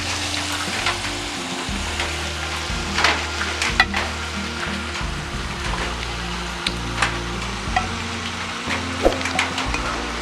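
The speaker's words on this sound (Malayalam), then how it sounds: "കബാബ് ഇട്ട് ഇളക്കാം." Seekh kebabs sizzle and fry in a hot pan while being stirred, a steady crackling hiss with occasional scraping knocks of the spoon, close and unaccompanied by speech.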